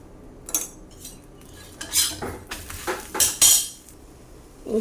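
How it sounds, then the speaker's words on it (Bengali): Metal utensil clinks and scrapes against a pan as ghee is spread over a paratha, several short distinct clatters spaced unevenly across a quiet background, fairly close. "এবার এর মধ্যে আমি ঘি লাগিয়ে নেব"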